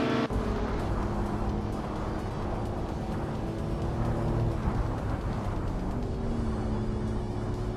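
A 1990 Mazda Eunos Cosmo driving in a racing video game, a continuous loud engine drone with steady tonal hum across the whole stretch.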